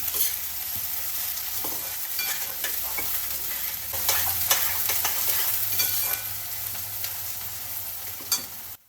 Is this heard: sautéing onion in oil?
yes